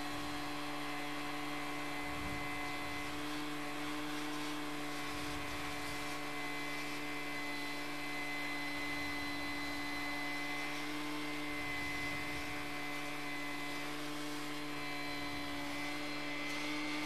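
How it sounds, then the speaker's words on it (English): An Au-niqueVac gold vacuum runs steadily with a constant motor hum and whine, loud and continuous throughout with faint bumps as it picks up loosened material. "let the vacuum pick it up."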